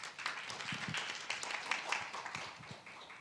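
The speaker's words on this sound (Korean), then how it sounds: "여러분 큰 박수로 환영해 주십시오." An audience claps to welcome the discussion moderator at a Korean panel session, giving a brief burst of dense, moderately loud applause that tapers off toward the end.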